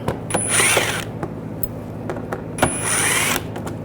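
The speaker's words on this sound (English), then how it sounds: "use a T20 socket. There's some screws. Remove these screws." Ratchet wrench with a T20 socket backing screws out of an underbody shield on a 2009-2017 Volkswagen Tiguan, two bursts of quick clicking separated by a pause, close and fairly loud with scattered small clanks.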